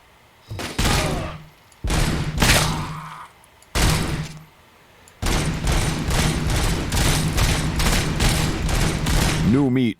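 Bursts of gunfire in a shooter video game, loud volleys that start and stop in several clusters before a long sustained barrage near the end, with a voice briefly heard among the shots.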